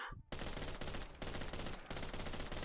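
Rapid, sustained submachine gun fire in the Garry's Mod zombie game, dense, loud and continuous after a brief opening gap, with only slight dips in the burst.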